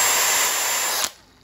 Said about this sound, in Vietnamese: Con này đặc biệt là nó ngắt nữa rồi, chống gãy tay nè